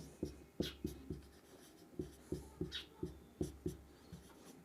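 Chalk or marker strokes on a classroom board during a maths lesson on the area of a circle, about a dozen short taps and scrapes in an uneven rhythm, close and clear with no talk.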